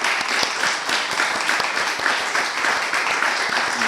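An audience at a talk on emergency dwellings applauds, a dense, sustained patter of many hands clapping at close range for several seconds.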